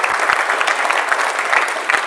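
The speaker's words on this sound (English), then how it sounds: "First of all, give yourselves a round of applause." Applause from a large audience crowd at a U.S. Coast Guard strategy release event, steady dense clapping with a few louder individual claps, close and continuous throughout.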